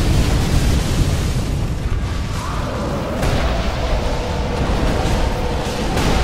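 A Dark Souls 3 boss fire attack roars loud and close, a rumbling burst of flame with a rising and falling sweep, and no talk over it.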